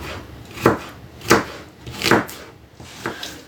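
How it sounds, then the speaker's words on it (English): A knife chops beets on a cutting board with five firm, slightly uneven thuds, close and clear with no talking. "now we'll cut these up"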